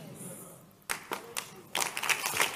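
Hands clap in bursts during a church sermon, with a few scattered claps giving way to louder, denser applause from the congregation.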